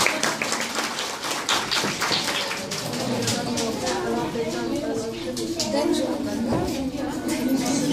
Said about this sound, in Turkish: Hocam bir alkış istiyoruz